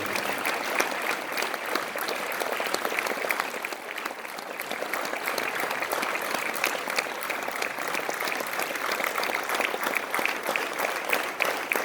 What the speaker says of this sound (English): Let's keep the applause coming, ladies and gentlemen.